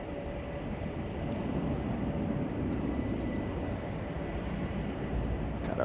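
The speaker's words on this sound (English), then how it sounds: "Got our 747-400 freighter." A Boeing 747-400 freighter at Chicago O'Hare gives a steady, fairly distant jet roar, with a faint tonal whine and a few brief clicks over the continuous rumble.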